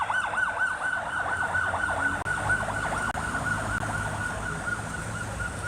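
A police siren wails as officers leave the scene of a motorcycle accident in Florești, Cluj, its rising and falling tone repeating steadily and loudly over road noise from passing traffic.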